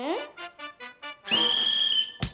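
A whistle struck by a kicked football gives a shrill steady tone of under a second, preceded by short vocal-like sounds and ending in an abrupt noisy burst.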